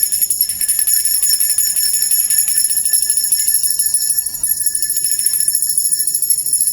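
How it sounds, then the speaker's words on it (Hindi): A high-pitched bell rings steadily throughout, a piercing, sustained tone that stays loud and even with no talking over it. "वेनम की कमजोरी है तेज आवाज उच्च आवृत्ति के साथ, जैसे कि घंटी की आवाज"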